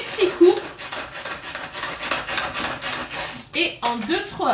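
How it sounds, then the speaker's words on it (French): A pull-cord manual chopper minces mushrooms in quick repeated pulls, producing rhythmic scraping, whirring rubs and light plastic clatter, with a voice speaking over parts of it. "Et c'est parti, on vient tirer. Donc là, on va hacher quand même assez finement."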